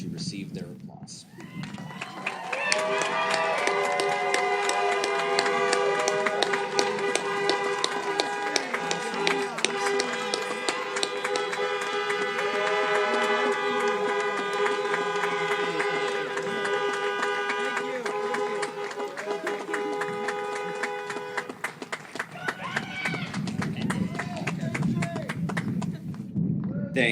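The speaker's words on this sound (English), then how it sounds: "please stand and turn to face your audience to receive their applause" Sustained applause from an audience at a Bishop Foley Catholic High School 2020 diploma conferral, dense steady clapping filling the hall under music-like tones, with voices mixed in, fading near the end.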